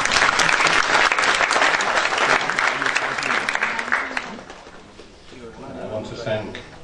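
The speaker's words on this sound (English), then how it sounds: "I think you should give them all a round of applause." Audience applause at a 2014 IILM UBS university convocation ceremony, a dense sustained clapping that fills the hall, then thins and fades toward the end with a few scattered claps and murmurs.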